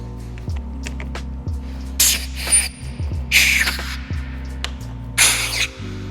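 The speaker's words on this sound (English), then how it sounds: "If you can get a little bit of air underneath here, it's probably going to be loud" Compressed air blown under a worn handlebar grip on a Honda Rebel 1100 motorcycle to loosen it, heard as several loud hissing bursts over a steady low hum, with clicking in between.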